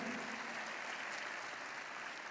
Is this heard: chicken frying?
no